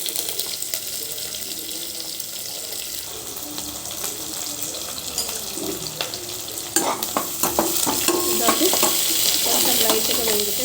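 Broad beans frying in a pan with curry leaves, a steady close sizzle with scraping stir strokes and a bit of running tap water, growing louder toward the end.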